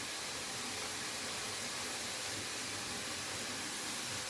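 Chicken frying in a pan, a steady broadband hiss and sizzle that holds even and moderately quiet throughout with no voices.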